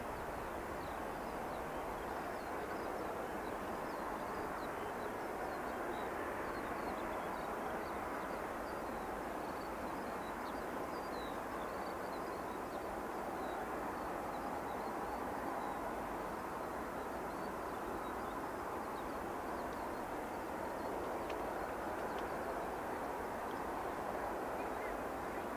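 Aircraft taxiing at Manchester Airport make a faint, distant, steady jet drone that continues unbroken throughout.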